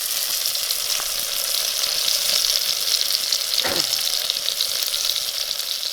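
Ingredients for a village-style chicken curry roast in a hot pan with a loud, continuous sizzle. A stirring scrape cuts through midway, and no one speaks.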